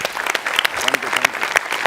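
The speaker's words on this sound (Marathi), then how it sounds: "जोरदार टाळ्या" A studio audience at a Marathi comedy show applauds in a loud, close burst of crowd clapping, brisk and continuous, with a few voices mixed in.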